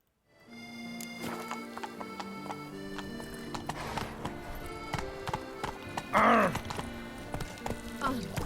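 Roach, a horse in The Witcher 3, gallops with steady, close clip-clopping hoofbeats and occasional thuds, with a loud whinny partway through and another short neigh near the end.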